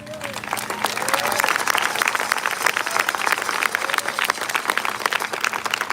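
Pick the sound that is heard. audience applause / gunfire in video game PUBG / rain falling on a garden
audience applause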